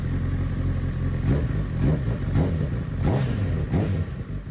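A Honda CB1000R motorcycle engine idles loudly close by, then revs several times in quick bursts, each throttle blip rising and falling.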